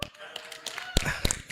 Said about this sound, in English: I expected to hear a very big hand clap